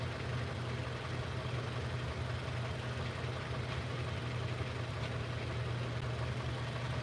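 A warmed-up car engine with 200,000 miles on it, treated with a LIQUI MOLLY additive, idles steadily: a continuous low hum and rumble, close and even, with no other sounds.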